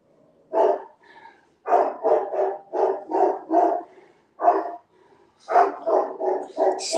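An excited dog in a new, unfamiliar place barks in quick repeated bursts, about a dozen loud close barks in clusters with short pauses between them.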